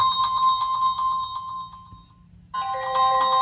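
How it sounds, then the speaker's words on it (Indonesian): A smartwatch's find-my-device feature makes a phone ring, a loud, bright electronic ringtone repeating in quick pulses, cutting off briefly for about half a second before resuming just as loud. "Kita bisa pilih menu dari sini, find my device gitu ya. Ini bisa kita cari HP kita kalau hilang juga."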